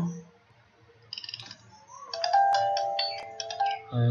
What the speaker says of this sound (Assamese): মোবাইল ফোনটো যেতিয়া আপুনি অন কৰি দিব এই ৰিং সাউণ্ডটো বন্ধ হৈ যাব।